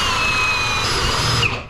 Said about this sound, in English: it drills holes so much faster than the standard drill